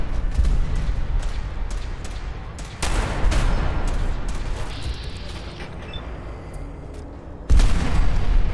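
Heavy cannon fire from the Fallout 4 game, a dense loud barrage of booming shots that rolls on continuously, fades slightly in the middle, then surges again with a fresh blast near the end.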